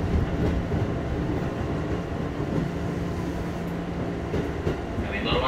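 A 10-car passenger train arrives at a platform at Cikarang station during construction, a steady loud rumble of wheels and carriages with faint clatter throughout, heard close by.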